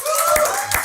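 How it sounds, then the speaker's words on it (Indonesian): Audience applause at a live show, a short burst of clapping over faint tonal sound, briefly swelling twice within under a second. "Tepuk tangan untuk Ariel"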